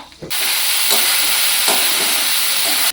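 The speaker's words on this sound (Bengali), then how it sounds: "বাদাম ভেজে নিচ্ছি" Peanuts frying in a pan for a homemade vegetarian chow mein give a steady, loud, close sizzle that starts abruptly and holds a dense hiss throughout, with no talking.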